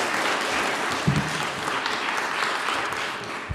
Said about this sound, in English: Actually, let's give Flo a round of applause.